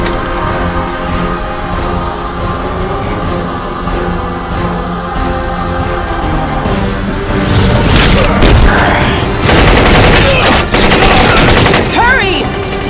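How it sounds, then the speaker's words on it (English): An animated-film explosion breaks out after a stretch of tense mechanical background, a loud rumbling burst with crackling debris that fills the second half, with voices heard earlier. "I think it's gonna... Oh no, no! It's gonna explode!"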